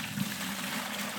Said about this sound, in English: So we'll pour some water into the bucket,